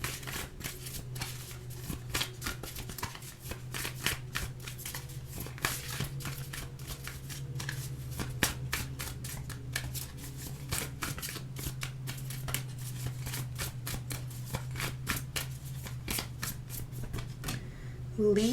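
Tarot cards shuffled continuously at close range, a dense run of soft riffling flicks and slides under a steady low hum, with faint talk in the background.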